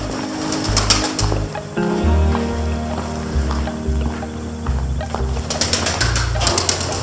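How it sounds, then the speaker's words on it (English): Startled pigeons burst into flight at the far end of a tunnel with loud, clattering wingbeats and sharp flutters near the start and again toward the end. A steady low rumbling echo runs underneath. "We and the pigeons scared each other as we exited the far end of the tunnel."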